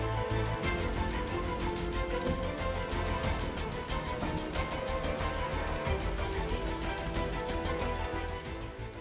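Steady monsoon rain in Saurashtra, Gujarat, pattering on a surface, continuous and fairly loud throughout with dense drops and no voices.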